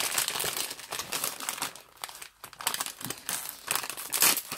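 Crinkly plastic foil packet of a Disney Tsum Tsum toy torn open by hand, a dense run of close, loud crackling and crumpling with a brief quieter gap midway.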